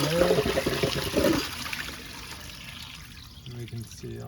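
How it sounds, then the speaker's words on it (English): Water trickling and gushing from an opened pool pump housing during a repair, a soft liquid flow at close range, with someone talking briefly at the start and again at the end. "And we can see all that water coming through."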